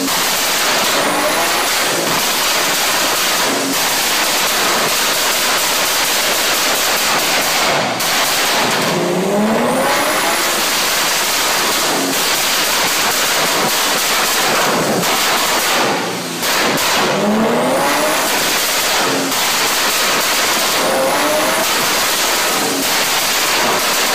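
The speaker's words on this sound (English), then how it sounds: "this 1500 horsepower twin turbo Lamborghini goes against this 1600 horsepower twin turbo Viper." A 1500 horsepower twin turbo Lamborghini races a 1600 horsepower twin turbo Viper. Their engines roar loudly and continuously, with rising turbo whistles and shifts that come and go over a steady, harsh wash of noise.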